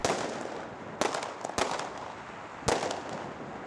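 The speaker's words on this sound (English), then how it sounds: "The sound of explosions has been echoing between the apartment blocks of this small town all morning." Firecrackers explode for Chinese New Year between apartment blocks in Fuxin, several sharp loud bangs with dense crackling that echoes off the buildings between blasts.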